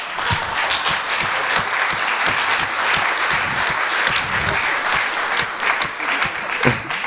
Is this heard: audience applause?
yes